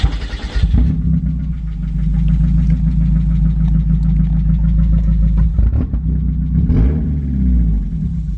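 A Mazda Miata engine running with an open header idles loudly and steadily: a deep, rough, throbbing rumble throughout, with a louder burst at the start and a brief blip near the end.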